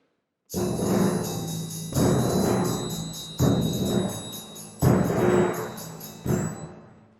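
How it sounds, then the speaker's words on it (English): Five heavy timpani strikes roll out in a steady sequence, each boom ringing and decaying under shimmering metallic percussion from a symphony orchestra, loud and close. "So together, the timpani and the percussion sound like this."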